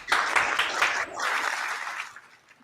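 Brief burst of crowd applause and clapping at a live show, dense and steady for about two seconds before fading away.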